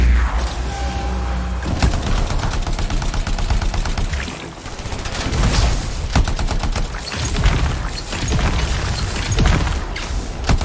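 In the video game Anthem, a flamethrower and a minigun fire together in a loud, dense, continuous roar of rapid shots and rushing flame, with some surges and dips and no talk over it.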